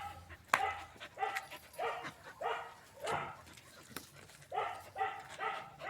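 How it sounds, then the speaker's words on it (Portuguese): A Rottweiler and a Pitbull at home let out repeated barks mixed with yips and whimpers in uneven bursts, close and moderately loud, with short pauses between. "Aqui é meu Rottweiler. Esse é meu Pitbull PBT."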